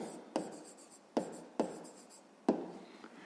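Pen writing out the answer to a fifth-grade maths exercise, heard as four distinct sharp taps of the pen on paper, each followed by a soft scratching stroke, close and clear with no talking.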